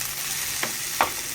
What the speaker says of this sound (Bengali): ততক্ষণ পেঁয়াজটা এখানে ভাজা হোক।